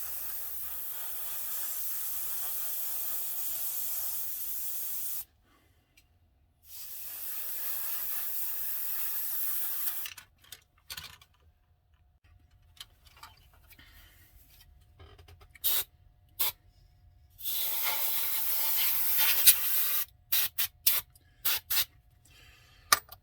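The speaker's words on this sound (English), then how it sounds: "that's the last of the zinc chromate green that we are going to be spraying today" Zinc chromate green spray paint hissing onto model airplane parts in bursts, long steady sprays broken by pauses, then several short quick puffs, close and fairly loud.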